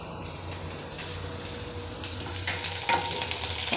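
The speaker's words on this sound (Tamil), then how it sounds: "சட்டியில் எண்ணெய் காஞ்சிக்கிட்டு இருக்கு. இதில் பூண்டு ஒரு பத்து பல்லு பூண்டு" About ten garlic cloves dropped into hot oil in a pan for a dal and balloon vine dish, sizzling and crackling steadily and growing louder and brighter toward the end, close and continuous with no talking.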